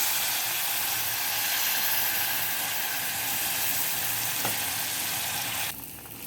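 Tamarind water poured into a pan of green manathakkali kuzhambu produces a steady, dense sizzle and hiss, close and even, fading slightly at the very end.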